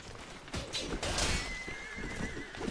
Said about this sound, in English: Get out of the way, dumb horse.